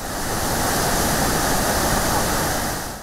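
Water pours steadily over the open spillway of Masinga Dam, a loud, continuous broadband roar and rush with no breaks or voices.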